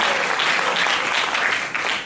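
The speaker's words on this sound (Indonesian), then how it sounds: "Kalau mau tepuk tangan bagi Tuhan Yesus." Audience at a church seminar in Duri, Riau claps in a dense, continuous burst of applause, close and fairly loud throughout.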